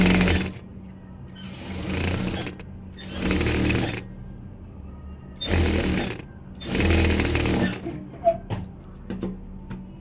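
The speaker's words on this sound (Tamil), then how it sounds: "இப்போ இந்த ஃபால்சன் பீஸில் ஓரமாக ஒரு தையல் போட்டுக்கிறேன்." A sewing machine runs a seam along the edge of a fall piece for a blouse: four short, fairly close bursts of rapid mechanical whirring, separated by quiet pauses.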